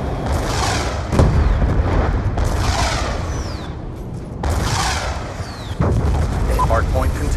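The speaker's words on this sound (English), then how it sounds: "Friendly Hellstorm missile inbound." Hellstorm missile strikes in Black Ops 2 multiplayer, repeated booming impacts and rumbling bursts at roughly one-second spacing with gunfire in between, mixed under rushing whooshes and game voices.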